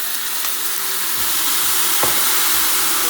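Oxtails frying in a pot with browning sauce, a loud continuous sizzle with a few stirring knocks.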